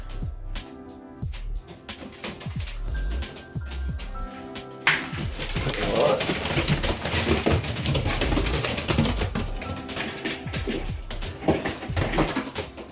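Serbian Highflier pigeons kept in a cage in Melbourne, Australia, with soft cooing and scattered wing flutters and clatter building into a steady busy din over thirteen seconds, close and moderately loud, with no talk.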